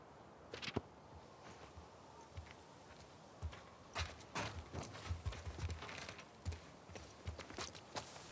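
Hooves of a horse in the video game The Last of Us Part II clip-clop in an uneven walking rhythm, soft and fairly faint, with scattered clicks over a quiet ambient bed.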